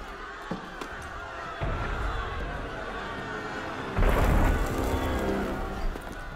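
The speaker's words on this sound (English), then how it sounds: "That was cannon fire." Cannon fire during a prison break in Assassin's Creed Unity: a heavy low boom swells in about midway and rolls on beneath a steady rumble of game ambience and crowd noise.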